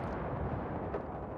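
A grenade blast in Battlefield 3 on the Metro map: a dense, rumbling explosion roars close and loud through the whole moment, thick with low boom and debris noise, with no voices over it.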